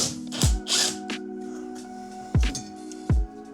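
A ratchet works loose 10 mm nuts around the clutch master cylinder area. A few short bursts of clicking and knocking stand out over a steady mechanical hum, close and fairly quiet.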